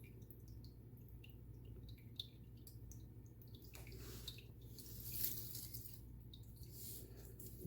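A Homedics tabletop water fountain on a kitchen countertop trickles over rocks, with faint, steady running water and soft drips close by.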